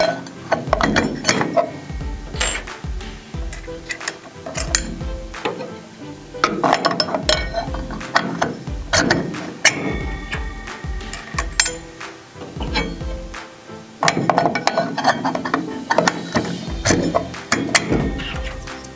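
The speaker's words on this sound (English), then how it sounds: "alternate blade and spacer until all are in place" Metal blades and spacers being stacked onto the arbor of an AGP CG150 groove cutter, giving repeated close metallic clinks and clacks in irregular bursts, with no talking.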